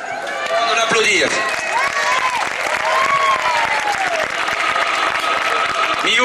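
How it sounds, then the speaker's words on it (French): Festival audience applauding the artist who made a trophy, a full, sustained wash of clapping from a large crowd with scattered whistles and cheers rising over it. "On l'applaudir."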